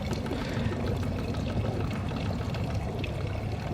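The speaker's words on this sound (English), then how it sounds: "opening the tap just enough to provide enough water into the weir while the pump is running to maintain the airtight seal" Water trickles steadily from a rain barrel spout into the weir of a running swimming pool pump, a continuous close splashing with no voices.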